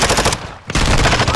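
Heavy automatic gunfire in Call of Duty team deathmatch, loud and close, continuous rapid bursts broken by one brief pause before firing resumes.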